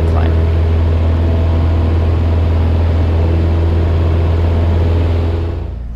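Small airplane engine at climb power with carburetor heat applied, flying in cold weather; a loud, steady low drone with a strong constant hum runs throughout, fading slightly at the very end.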